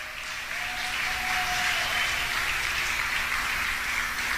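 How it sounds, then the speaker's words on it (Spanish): Congregation at a church service applauding, a steady, even wash of many hands clapping at moderate volume with no one speaking. "¿Cuántos le damos un aplauso al Señor?"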